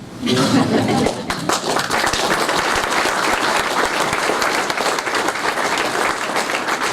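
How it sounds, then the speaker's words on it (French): A crowd at a podium ceremony at a port bursts into loud, sustained applause, a thick wash of many hands clapping that holds steady throughout after a brief opening moment of voices. "On peut les applaudir"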